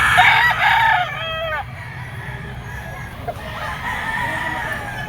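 Roosters for sale as fighting cocks, one a lemon sweater, crow and cluck in a loud burst up close, then fainter crowing and clucking carry on over steady background din.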